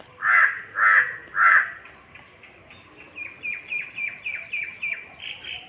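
A crow caws three times, loud and close, then a quicker run of softer, higher calls follows, with faint insects or chirping in the background and no speech.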